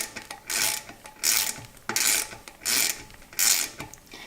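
A mountain bike brake disc's Loctite-coated bolts being tightened with a ratcheting tool, five bursts of clicking separated by short pauses, close and clear, heard alone.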